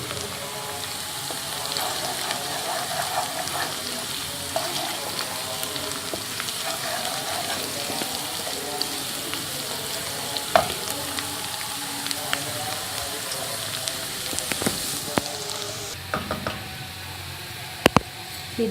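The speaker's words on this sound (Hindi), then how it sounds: "ये देखिए प्याज और ज़ीरा इस तरह से काफ़ी फ्राई हो गया है।" Onion and cumin sizzle steadily in a hot pan for baingan bharta, a continuous close crackling fry with occasional faint knocks and stirring, no talking.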